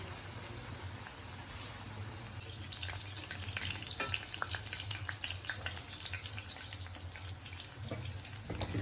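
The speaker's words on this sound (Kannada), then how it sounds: "So it will cook well if you fry this in low flame." Onion pakodas deep-frying in oil on a low flame, a continuous bubbling sizzle with crackly bursts that grow busier midway.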